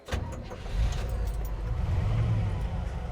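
Jeep Gladiator engine cranking over and catching, then idling with an uneven, lumpy low rumble up close for a few seconds.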